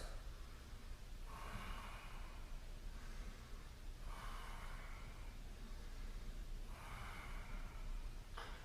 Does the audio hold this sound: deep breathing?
yes